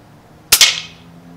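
A single sharp crack from an FX Impact .25 air rifle firing one shot, loud and close, with a short bright tail fading quickly into quiet.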